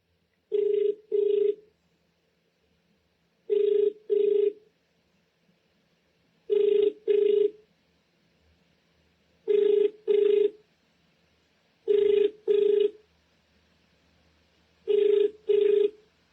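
Telephone ringback tone on an outgoing call, repeating as paired double rings roughly every three seconds, clear and steady with no talk over it.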